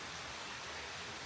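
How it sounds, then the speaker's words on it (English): Gentle rain falling steadily outdoors, a soft continuous hiss with no distinct drops, faint and alone throughout. "A nice gentle rain."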